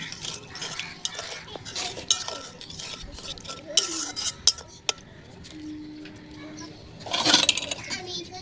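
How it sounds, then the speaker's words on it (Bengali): A ground spice paste with red chilli is stirred in a pan after water is added, with a utensil scraping and clinking against the metal and a brief watery sizzle, close up. "এগুলো সব এখন জল দিয়ে দিচ্ছি কষানোর জন্য মশলাটা কষিয়ে নেবো জল দিয়ে"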